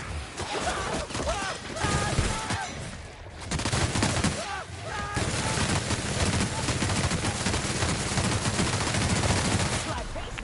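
Rapid machine gun fire in the video game The Outer Worlds rattles on continuously and loudly, with dense bursts of shots and impacts blending into a steady barrage.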